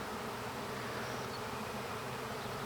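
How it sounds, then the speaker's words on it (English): Swarm of thousands of honey bees flying in the air after leaving a hive, a dense, steady buzzing drone filling the space without pause. "there are thousands and thousands of bees flying in the air"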